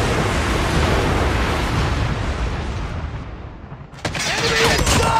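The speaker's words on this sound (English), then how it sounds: "Lightning strike activated." Lightning strike explosions in the Call of Duty Mobile video game: a loud, dense rumbling barrage of blasts that fades and then bursts back up sharply near the end.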